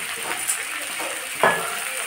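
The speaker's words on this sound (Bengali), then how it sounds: "মশলাটা আমি কষিয়ে কষিয়ে নেব।" Ground spices with salt, turmeric and garlic paste sizzle in a hot pan in a home kitchen, a soft steady frying hiss broken by a couple of brief louder spatters, no talking.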